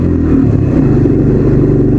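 A 4x4 vehicle engine drives hard over a stony, rock-strewn off-road track, its steady loud mid-range drone held with constant force and no pauses.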